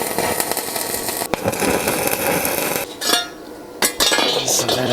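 Flux-core welding on a racecar seat mount, loud harsh crackling and spitting in short bursts with a couple of abrupt stops and restarts, close and without talk.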